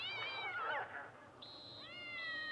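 Several cats meow in turn, with a long wavering call followed by higher drawn-out meows, fairly close and clear with no talking.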